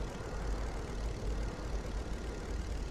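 A video-game transport airplane carrying players toward their drop onto the map, its engine a steady, loud, low droning rumble with a propeller-like hum that holds unbroken throughout.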